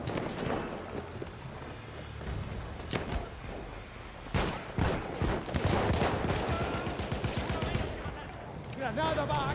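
Heavy battle gunfire in Battlefield 1: overlapping shots, machine-gun bursts and booming blasts, near and loud, with a voice speaking amid the din.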